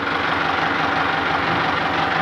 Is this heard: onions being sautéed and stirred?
no